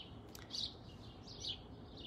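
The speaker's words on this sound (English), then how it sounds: "I actually never realized how many birds there are" Birds sing behind a house, heard from a back balcony: faint, distant chirps and short tweets come in a couple of brief bursts over a steady outdoor background hiss.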